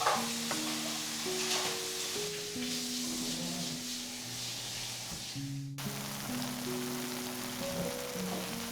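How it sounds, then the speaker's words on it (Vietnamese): Fried sweet potato cakes sizzle in hot oil over medium heat with a soft, continuous crackle, while gentle music plays underneath. "Khi dầu nóng thì mình cho bánh vào chiên luôn nha."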